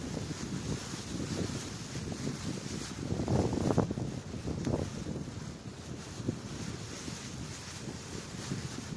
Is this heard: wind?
yes